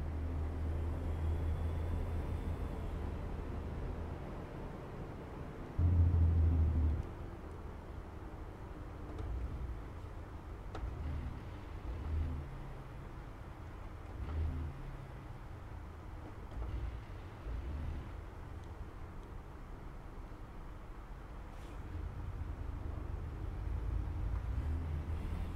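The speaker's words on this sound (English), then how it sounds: "I like the sound of this truck, really, I do." Steady low rumble of a truck engine in American Truck Simulator, droning continuously with a brief louder surge early on and gentle rises and falls in revs, with no talk.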